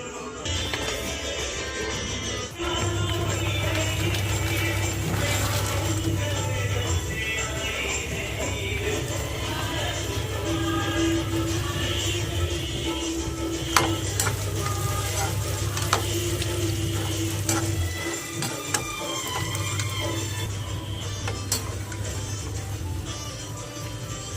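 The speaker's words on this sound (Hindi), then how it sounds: "इसमें मखाने तलेंगे घी में" Fox nuts (makhana) frying in hot ghee give a steady, continuous sizzle with occasional stirring scrapes, close and moderately loud, over a low, even hum.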